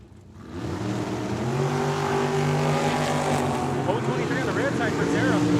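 A dragster at Tucson Dragway roars through its launch, the engine drone climbing in pitch and staying loud and steady for several seconds, with an announcer's voice over the noise.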